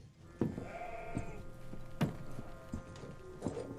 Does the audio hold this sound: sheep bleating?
yes